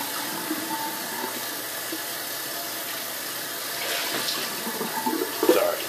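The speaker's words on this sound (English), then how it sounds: "just going to rinse off with more cold water" Cold tap water runs steadily while someone rinses their face after a cold-water shave, a continuous close hiss with faint splashes growing slightly louder toward the end.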